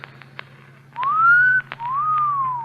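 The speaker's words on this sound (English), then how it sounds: "you should have made the whistle shorter, like this" A person whistles two clear, sliding notes in a quiet room, the first rising and holding briefly, the second gliding gently downward, both near and distinct with short soft sounds before them.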